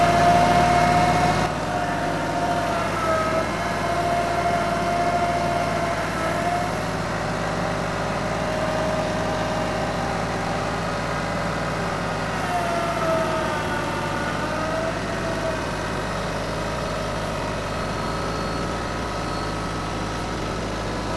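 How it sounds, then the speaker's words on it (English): A tractor loader engine runs steadily and loudly throughout, a constant mechanical drone with a faint whine rising and falling over it. "That loader's got plenty of power. That thing's not struggling at all."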